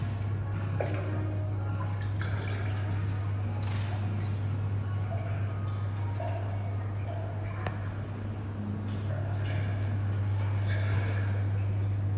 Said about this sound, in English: It's the sound of dripping water.